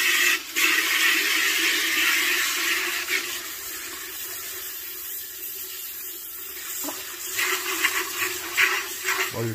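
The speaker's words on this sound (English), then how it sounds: "let's put some water in here" Water runs steadily into a 12lb Lortone rock tumbler barrel, a continuous splashing gush that thins in the middle and grows louder and more broken toward the end.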